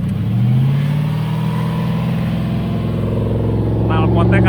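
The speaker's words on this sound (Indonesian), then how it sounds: "Sumpah gue paling seneng denger mesin 8 silinder" An off-road car's 8-cylinder engine idles with a deep, steady rumble and rises into revving; someone talks over it near the end.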